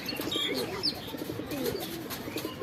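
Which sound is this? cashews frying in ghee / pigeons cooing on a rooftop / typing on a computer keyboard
pigeons cooing on a rooftop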